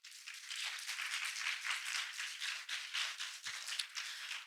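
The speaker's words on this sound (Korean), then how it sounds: "다시 한번 김주온 연구관님께 큰 박수 부탁드립니다." An audience at a climate youth conference applauds researcher Kim Ju-on, the clapping quiet and a little distant but continuous for several seconds.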